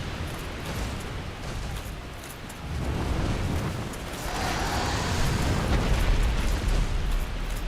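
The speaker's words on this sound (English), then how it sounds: "that's the tail slam" Black Dragon Kalameet slams its tail in Dark Souls, a heavy rumbling crash that swells midway and rolls on loud and sustained with no talk over it.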